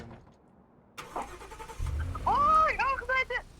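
A Roblox car spawns with a brief start-up burst, then its engine hums low and steady beneath a warbling tonal game sound, with a voice speaking over it near the end.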